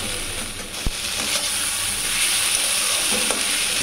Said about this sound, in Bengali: তো সবজিগুলো ভালো মতো মশলার সাথে ভেজে এখন পরিমাণ মতো ভাত দিয়ে দিয়েছি